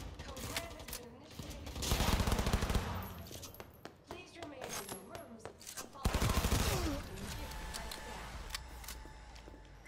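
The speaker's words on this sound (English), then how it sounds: "I love the submachine gun, by the way." Submachine gun fire in Cyberpunk 2077, rapid bursts of shots in two loud clusters with scattered single cracks between, mixed with other game sounds.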